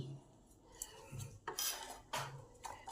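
Turmeric, chili powder, salt and sugar are mixed in a bowl, sounding as a spoon clinking and scraping against the dish in several short bursts, close and distinct with quiet gaps between.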